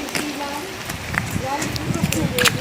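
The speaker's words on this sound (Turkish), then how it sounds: "çok güzel yağmur yağıyor değil mi?" Rain falls steadily in a continuous patter while a child splashes around, with a voice talking over the downpour.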